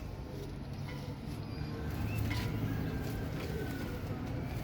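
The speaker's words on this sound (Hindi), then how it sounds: "ये प्योर कलदुम में कबूतर हैं, ये बहुत बिग साइज़ के।" Big, pure Kal Duma pigeons cooing in low, steady murmurs that run together over a constant rumbling background, with some faint higher chirps mixed in.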